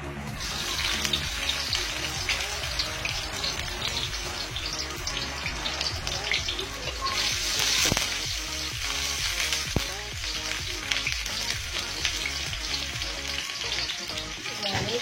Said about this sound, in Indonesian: Ini minyaknya sudah panas, jadi langsung saja kita masukkan 1 siung bawang putihnya yang sudah diiris ataupun dirajang